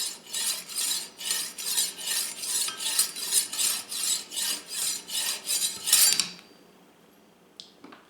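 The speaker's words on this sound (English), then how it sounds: "position the knife horizontally and just go forward and back" A knife drawn horizontally forward and back through a knife sharpener, about a dozen rhythmic rasping strokes close up, each a bright grinding scrape, then the motion stops and near silence follows with a faint click.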